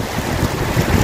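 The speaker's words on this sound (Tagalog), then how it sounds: "Sobrang lakas po ng hangin." Strong, cold wind buffets the microphone outdoors, a loud continuous low rumble of gusts that swells and dips for about a second with no voices.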